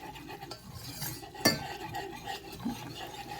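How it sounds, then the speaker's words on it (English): A spoon or whisk stirs a butter-and-flour roux in a pan: quiet, irregular scraping strokes over a soft background, with one sharper scrape partway through. "We're making a roux, and we want to make sure that we cook down that flour"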